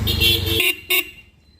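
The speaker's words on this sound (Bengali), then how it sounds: "আপনার হর্ন দুটাই জাপানি হর্ন" Japanese horn on a Yamaha RX 115 motorcycle sounds two short honks, a longer blast followed by a brief toot, close and loud over a faint engine rumble.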